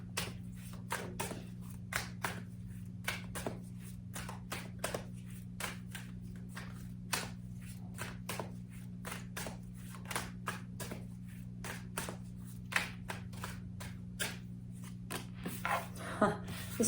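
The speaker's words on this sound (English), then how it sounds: "This was at the bottom of the deck when I started shuffling" Rapid, repeated riffling of a card deck, crisp flicks coming in steady bursts over a low constant hum, close to the listener.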